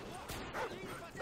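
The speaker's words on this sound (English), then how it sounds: "Oh no, not the dogs. Not the dogs." Dogs in the Favela level of the video game Modern Warfare 2 give short, close yips and bow-wow barks in a quick burst lasting about a second, mixed with game ambience and a voice.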